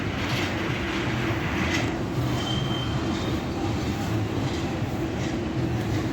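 Long freight train rolling past a big railroad crossing, a loud, continuous rumble of wheels and wagons with steady rattling and a faint high squeal, unbroken from start to finish.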